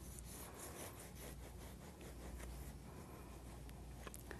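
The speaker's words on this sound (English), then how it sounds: "I'm going to cut the dome off of this one using a serrated knife" A serrated knife saws back and forth through the domed top of a baked cake layer, a steady close rasping scrape that continues without a break and with no talk.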